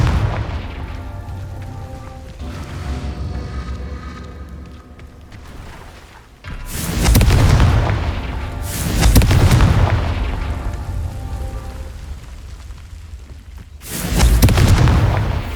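Confringo fire-blast spell in Hogwarts Legacy, heard as several heavy booming explosions with rumbling tails, the loudest bursts arriving about two seconds apart in the second half over a low game ambience.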